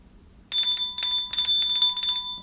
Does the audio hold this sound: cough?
no